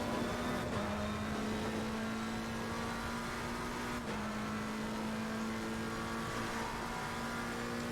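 A McLaren 720S GT3 race car engine in the Assetto Corsa Competizione racing game holds a steady high drone at sustained revs, with a brief dip and shift partway through, loud and continuous without talk.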